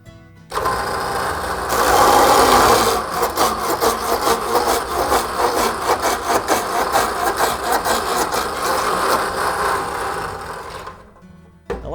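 A tenoning machine bites into the end of a log rail, a loud whirring cut rising sharply, then settling into a rapid rhythmic chatter of cutters on wood before winding down near the end.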